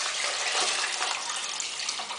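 Cold tap water pours steadily into a pot over chicken bones for stock, a continuous splashing gush with no talking.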